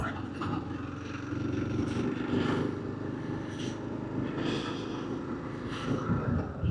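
A motorcycle rides a gravel coastal road near Whananaki, New Zealand, its engine droning steadily, with the drone swelling and easing over several seconds, close and continuous.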